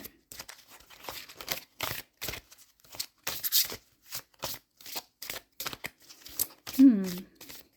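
Tarot card deck being handled while a card is drawn: quick papery flicks, slides and riffles in irregular bursts, close and crisp, with a voice talking over them.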